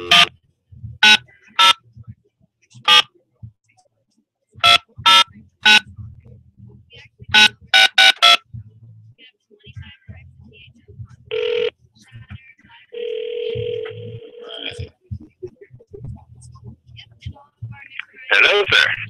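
A telephone call gets dialed, with several clusters of short dial-tone beeps, then a sustained ringback tone and a busy or tone signal, interspersed with someone talking close by.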